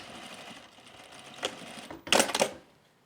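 A sewing machine stitches the top edge of a shirt facing into the shoulder seam of a camp shirt, running in two short close bursts, the second louder and more sustained, with quiet room sound in between.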